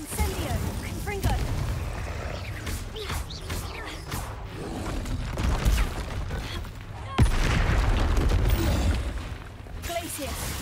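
Spell blasts and explosions fire repeatedly in a video game, a busy run of bursts, pops and booms over a constant rumble, with a louder burst partway through.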